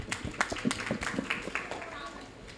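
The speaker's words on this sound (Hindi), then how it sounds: "एक बार तालियां" An audience at a Jain temple cultural program during the Daslakshan festival gives a short round of clapping, a brief burst of scattered claps with voices mixed in.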